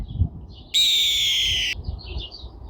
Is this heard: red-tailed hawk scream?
yes